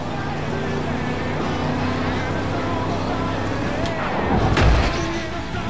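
Death Wish vehicle from Far Cry 5 driving, a steady engine drone with rolling road noise throughout, swelling louder near the end, under ongoing in-game background sound.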